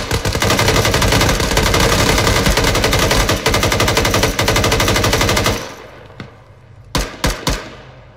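Sustained, dense automatic gunfire from the video game Arma 3 during a rescue mission, loud and continuous bursts for several seconds, then tapering off into a few isolated sharp shots.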